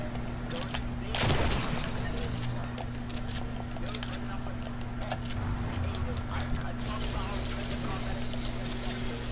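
Combat SMG gunfire in a Call of Duty-style battle royale video game, a burst of shots standing out near the start over steady game ambience, with a player talking throughout.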